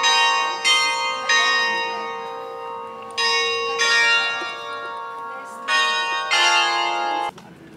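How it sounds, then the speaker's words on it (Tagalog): A church bell at Marian Orchard in Batangas rings loud and near, each ringing tone swelling with bright overtones and then decaying into a long hum before the next strike. "Tumutunog yung bell. Every 30 minutes daw ang tunog niyan"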